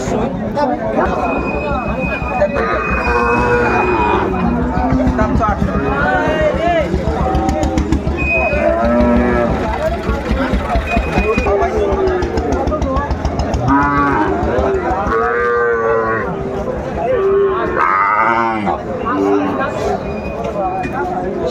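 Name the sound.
Sahiwal bull calves mooing at a cattle market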